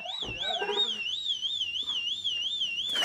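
A voice imitates a warbling alarm, a high wavering whoop repeating steadily, with brief background talk and noise beneath it.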